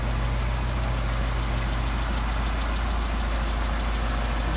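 A car engine fitted with a Solex carburetor runs loud and close, a steady throbbing idle holding even as the revs settle, with no voices.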